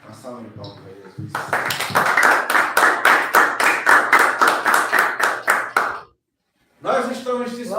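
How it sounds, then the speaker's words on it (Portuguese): Church congregation clapping for Jesus in a Portuguese-language service, a rhythmic run of about twenty strong unison claps, followed by a brief silence and then a voice speaking. "Uma salva de palmas para Jesus."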